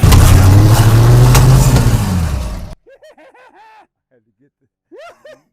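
A 1963 Chevrolet Suburban engine cranks and roars loudly for a couple of seconds, then cuts off abruptly, followed by short bursts of people's voices and laughter nearby.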